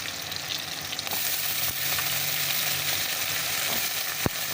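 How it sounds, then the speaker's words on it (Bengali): Loitta fish coated in chili and spices frying in oil in a wok, a steady bright sizzle running without pause, close and fairly loud, with a faint click near the end. "সামান্য করে একদম লাল লাল করে ভেজে নেব।"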